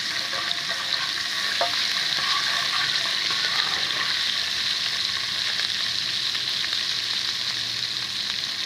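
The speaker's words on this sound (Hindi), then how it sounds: "अब इसको अच्छे तरीके से हम फ्राई करेंगे।" Garlic ginger paste frying in hot oil for dhaba-style chana dal, a steady loud sizzle with faint stirring scrapes, close and continuous without talk.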